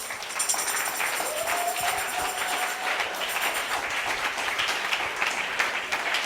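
A church congregation applauds the Lord with sustained, even clapping from a large crowd that fills the room steadily from start to finish.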